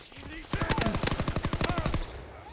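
Rapid automatic gunfire from a Call of Duty WWII war-map battle, a dense run of sharp shots lasting about a second and a half, loud and close, with a short pause before the firing starts.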